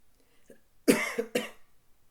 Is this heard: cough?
yes